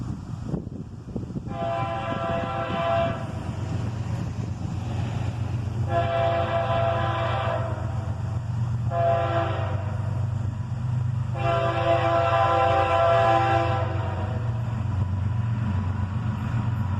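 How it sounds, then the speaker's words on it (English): A CSX freight train rumbles past at night, its horn sounding four long blasts in a repeating pattern over a steady low roar of rolling wagons. "A short time later, a northbound arrived and pulled into the siding and parked there."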